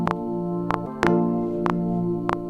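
Synth keys with a Dire Dreams patch, phaser, delay and reverb, playing sustained chords with rhythmic percussive hits punctuating them, steady and alone without talk.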